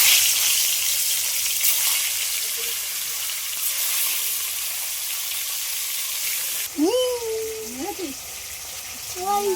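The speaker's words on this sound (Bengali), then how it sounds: "এদিকে তেলটাও গরম হয়ে গেছে। এবার মাছগুলো সব ভেজে নেব।" Fish fry in hot oil in a pan, giving a loud, steady hiss and crackle throughout, while a voice talks over the last few seconds.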